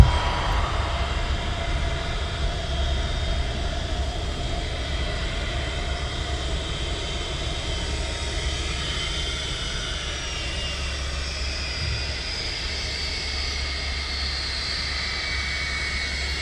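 A Boeing 757 departs Manchester Airport, its engines a steady, broad roar that holds at a fairly even level throughout without fading, heard from a distance with no voices.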